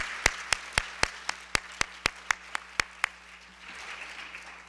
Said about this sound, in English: So I'll give another big, huge round of applause for that.